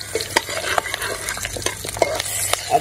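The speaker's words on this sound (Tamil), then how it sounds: "அப்படியே முழுசாகவே போட்டு இந்த எண்ணெயில் வதக்கலாம்" Whole green chillies, about ten, frying in oil in a pan while being stirred, with close, busy scraping and crackling sizzle throughout and no voices.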